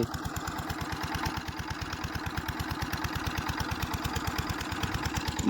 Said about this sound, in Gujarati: મશીન તો બધું ચાલુ કરી દીધું છે.